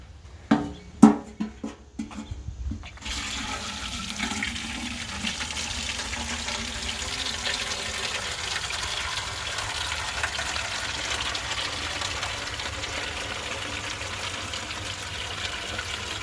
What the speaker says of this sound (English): would you like to see me use my rainwater system?